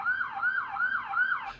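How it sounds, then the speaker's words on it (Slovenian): An emergency vehicle siren wails outside in a steady rising and falling cycle, heard at a distance and fairly faint, with no one talking over it. "odzadaj slišim sirene, tako da upam, da vas ne motijo"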